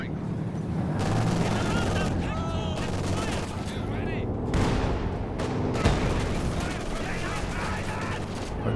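Anti-tank guns and other weapons firing in the World War II strategy game Company of Heroes 2: dense, loud battle gunfire with booms and bursts throughout, mixed with game voice callouts.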